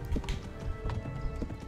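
Horse hooves clip-clopping at a fast gait in the medieval game Kingdom Come: Deliverance, a quick run of close, rhythmic hoofbeats with no talking.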